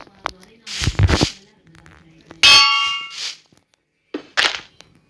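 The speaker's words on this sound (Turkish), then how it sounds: "Gördüğünüz gibi anvil ses var yani." Metallic clangs ring out in a few separate bursts, each a bright hammer-on-metal strike with a short ringing tail, an anvil sound in modded Minecraft.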